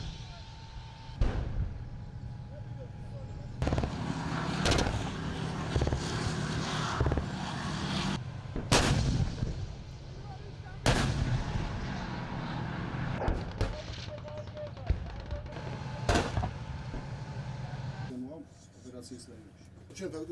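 Artillery of the Fifth Artillery Brigade fires during field exercises at Vaziani, heard as several sharp, booming blasts spaced apart across the stretch. Someone narrates throughout over a constant low background rumble.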